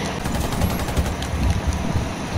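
Rapid automatic gunfire in the first-person shooter Warface, a dense, continuous rattle of shots with a rushing, wind-like background and no clear gaps.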